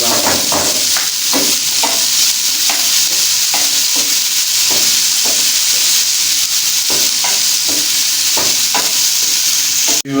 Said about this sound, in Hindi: हमारी किशमिश भी अच्छी तरह से फ्राई हो चुकी है